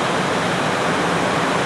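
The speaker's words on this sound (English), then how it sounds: "But this is the Sandy River" The Sandy River rushes beside Barlow Trail Road as a loud, steady broadband roar of flowing water, close and continuous with no other sounds.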